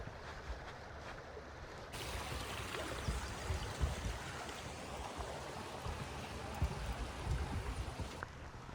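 A river running through a British coastal village makes a steady rushing, gurgling wash that swells louder partway through and continues at moderate volume with no talking.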